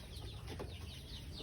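Chickens on a poultry farm cluck and call softly at a distance, a few short vocal bursts over low background rumble, no talk.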